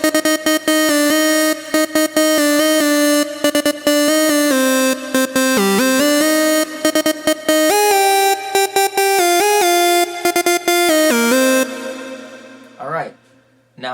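A synth lead with a sawtooth LFO routed to the second oscillator's pitch plays a loud, steady stream of bright, buzzy notes with pitch wobbles. It cuts off near the end, leaving a short faint tail, with no talking.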